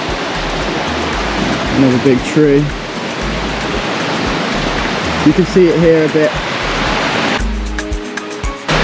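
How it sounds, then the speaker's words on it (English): A waterfall inside the Eden Project's indoor rainforest dome pours as a steady, loud rushing wash throughout, while someone talks over it. "And here's the waterfall here."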